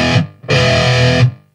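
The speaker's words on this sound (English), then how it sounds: "if we crank up the distortion a bit" A heavily distorted electric guitar through the Triple X channel of an amp plays two loud, sustained chords, the first cut short and the second ringing about a second before stopping.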